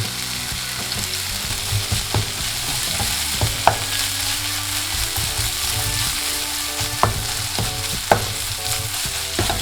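Doenjang soybean paste fries alongside beef and greens for yukgaejang, a steady close sizzle with the spatula stirring throughout and a few sharp clicks against the pan.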